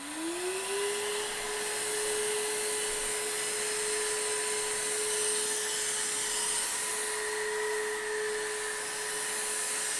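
A Devanti stick vacuum cleaner runs steadily at close range, its motor whine rising briefly at switch-on and then holding a constant tone with broadband airflow hiss throughout.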